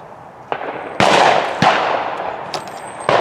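Shotgun blasts at a sporting clays range: several sharp, loud reports with short echoing decays, irregularly spaced over a few seconds, with no talking.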